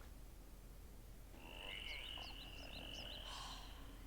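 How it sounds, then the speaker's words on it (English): A badger frog from the Avatar: The Last Airbender cartoon croaks in a quick run of chirpy, rising calls over a quiet outdoor background, starting partway through and repeating several times. "every time you hear a badger frog croak"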